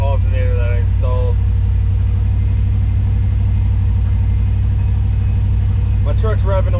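An OBS Ford F-150 pickup idles high at around 1,500 RPM after a fresh alternator install, giving a steady, loud low rumble with a constant hum, as someone talks briefly at the start and again near the end.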